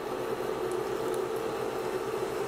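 Chopped onion sizzles steadily in hot olive oil for a vegetable and shrimp stir-fry, a soft continuous crackle and hiss close by, with no talking.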